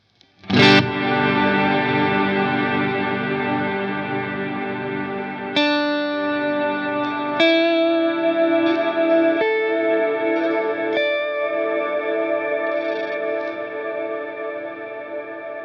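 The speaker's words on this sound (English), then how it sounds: "this pedal allows you to go pretty crazy with the amount of reverb you can have" An electric guitar is played through a Mad Professor Kosmos reverb pedal. Chords and notes are struck at a few spaced intervals, and each one rings out into a long, washy reverb tail. The playing is close and clear, with no talk.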